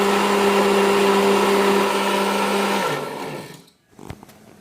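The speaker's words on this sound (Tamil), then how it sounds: "அதுக்காக தான் நாங்கள் சோறும் வெந்தயம் உளுந்தும் சேர்த்து அரைச்செடுக்க போகிறோம்." Electric mixer grinder whirring loudly as it grinds rice, fenugreek and urad dal into dosa batter, a steady high motor whine that winds down and cuts off near the end, followed by a few faint clicks.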